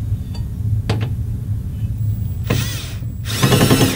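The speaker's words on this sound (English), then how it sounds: "And then we'll use our drill." A power drill drives a screw into the mounting plate of an aluminum and tempered glass double-deck DVD mount, two short whirring bursts close by after a few faint clicks.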